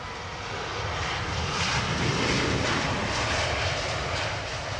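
An airliner arriving to land on runway 27R at London Heathrow roars past, a loud continuous engine rumble and whine that builds toward the middle and slowly fades, with no voices.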